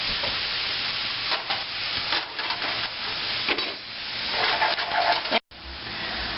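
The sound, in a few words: onions and garlic sautéing in a pan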